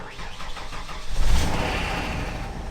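A 1992 Ford F150 engine cranks briefly and then fires up, catching into a loud, close rumble that settles into a steady idle.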